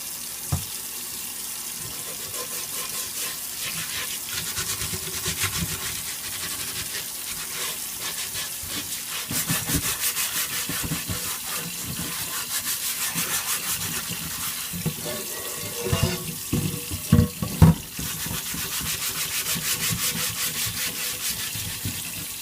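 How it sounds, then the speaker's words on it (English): Cast iron pan being scrubbed under a running tap during restoration, steady water flow with rough rhythmic scouring strokes that grow louder and more forceful near the end, close up with no talking. "So I'm gonna get in and scrub this up really well and do both sides"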